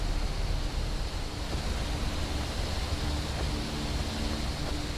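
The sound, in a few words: waterfall in the video game Skyrim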